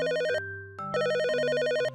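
Electronic telephone ringtone plays in two bursts of rapid warbling tones with a brief gap between them, clear and fairly loud, with no voices.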